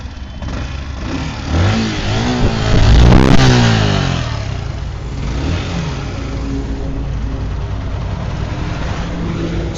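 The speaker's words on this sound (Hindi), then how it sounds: "थोड़ा सा बाइक की स्टार्टिंग देख लें।" A Yamaha R15 V2 motorcycle engine fires up and revs, a close, loud rising roar that peaks and falls back to a steady mid-pitched idle rumble.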